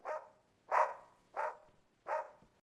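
Dogs bark at an animal shelter, four loud, evenly spaced barks close by with short pauses between them and no other sound.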